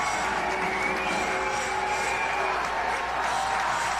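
A crowd fills a packed high school basketball gym during a Westview at Fairfield boys game, producing a steady, dense roar of voices and cheering that holds at an even level throughout.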